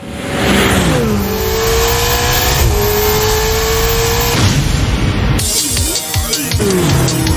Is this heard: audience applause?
no